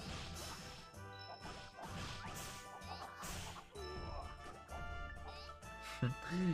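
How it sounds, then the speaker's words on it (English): Game sound effects of thrown flasks smashing and whooshing, layered over continuous music, with repeated crashes and chimes throughout. "Throwing flasks makes a very weird sound effect,"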